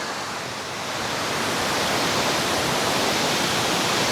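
Palina Falls in Pugo heard up close, a loud, unbroken wash of falling water that swells a little in the first second and then holds steady and full.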